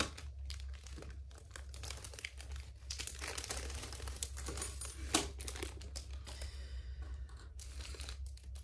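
The packaging of a cross-stitch kit is unwrapped up close: continuous soft crinkling and rustling of plastic and paper, with scattered sharper crackles and tearing bursts, quiet and without talk.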